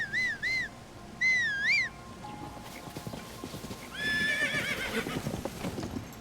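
A horse in Zelda Tears of the Kingdom gives two shrill whinnies, then gallops with rapid hoof clip-clops and a final neigh, close and clear with light game ambience.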